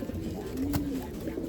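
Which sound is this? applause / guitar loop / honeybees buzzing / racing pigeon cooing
racing pigeon cooing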